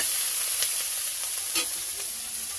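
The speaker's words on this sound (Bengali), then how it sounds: "দেখো পেঁয়াজ কুচি আর লঙ্কা কুচিটা আমি এই যে একটু নেড়ে চেড়ে নিলাম" Chopped onion and green chili frying in hot oil in a Bengali village kitchen, a loud steady sizzle with a few light stirring scrapes, close up and without talk.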